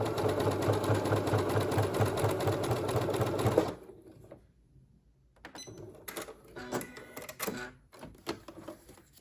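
A sewing machine runs fast and steadily while stitching a small fabric stopper over the end of a zipper on a pillow back, then stops, leaving quieter scattered clicks and handling noises.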